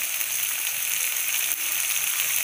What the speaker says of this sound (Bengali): ভালো করে মশলাটা কষাতে হবে যেন জিরে আর ধনের কাঁচা গন্ধটা চলে যায়